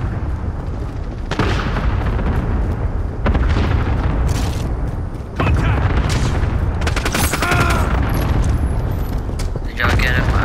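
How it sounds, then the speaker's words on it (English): Call of Duty Modern Warfare cluster strike explosions land as a rapid run of loud booms and crackling blasts, mixed with gunfire bursts and brief pauses between barrages. "Allied cluster strike inbound. Danger close."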